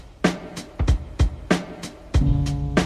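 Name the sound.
repetitive hip-hop drum pattern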